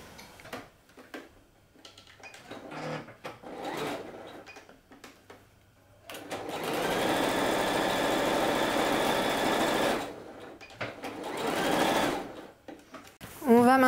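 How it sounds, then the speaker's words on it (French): Sewing machine stitching the shoulder seams of a coat, a steady close whirring run of about four seconds in the middle, with someone talking before and after it. "on va venir les piquer à la machine à droite et à gauche"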